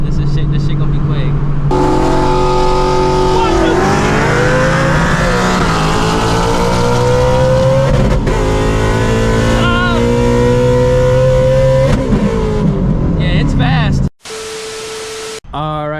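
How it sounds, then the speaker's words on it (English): Supercharged Shelby GT350 race car with an ESS G3R setup, engine roaring loud and close as it accelerates hard through rising gears over about fourteen seconds, then cutting off abruptly with brief quieter noise at the end. "Got some good runs in with the Shelby GT350"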